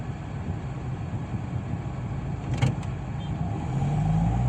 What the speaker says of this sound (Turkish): Birazcık gazı fazla verip debriyajımızı yarı tut tutmamız gerekiyor.